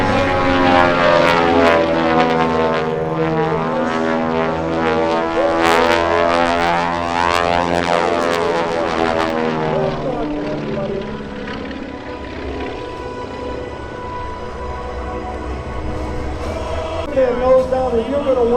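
A Twin Beech airplane makes a low, fast air show pass with a loud, steady propeller and engine roar that sweeps past and slowly fades and deepens in pitch.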